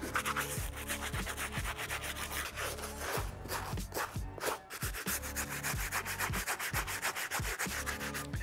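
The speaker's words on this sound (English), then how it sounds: "just hit it with our stiff bristle brush" A stiff bristle brush scrubs hard and steadily across the gum rubber sole of a pair of blue suede Adidas Sambas, with close, rhythmic rasping strokes and a brief pause in the middle.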